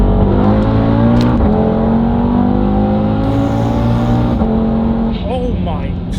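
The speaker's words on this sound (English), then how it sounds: "Oh, you hear that turbo as well." Audi TT RS with a roughly 500 bhp turbocharged engine and stock cat-back exhaust revs hard, the pitch climbing through gear pulls with an audible turbo whoosh, loud and close, with faint tire noise near the end.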